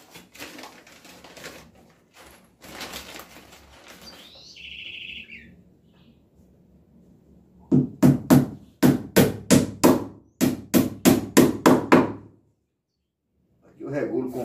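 Nails being hammered into a canoe frame built on four plastic drums, a quick run of about a dozen sharp, evenly spaced blows close up, with a bird chirping briefly before and talk earlier.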